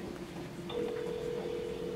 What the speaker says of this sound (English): At least it's still ringing